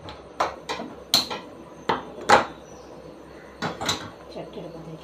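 A cooking pan handled in a kitchen, a series of separate metallic clanks and knocks at irregular intervals, close and moderately loud, with talk in the background.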